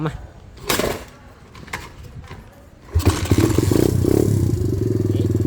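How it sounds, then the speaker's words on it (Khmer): A new 110cc motorcycle engine starts after a few clunks and rattles, then settles into a loud, steady idle with an even, rapid putter close up. "ឥឡូវយើងស្ដាប់សលេងម៉ាស៊ីនរបស់វាទាំងអស់គ្នា"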